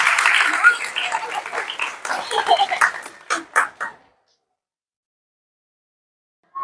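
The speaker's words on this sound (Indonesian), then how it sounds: "Tepuk tangan semuanya." Students clap together in a lively, uneven burst mixed with voices, trailing off into a few scattered claps before falling silent.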